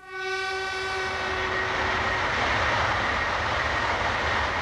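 A Shinkansen bullet train passes close by, opening with a brief horn note before a loud, steady rush of rolling noise.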